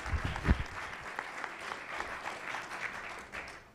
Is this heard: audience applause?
yes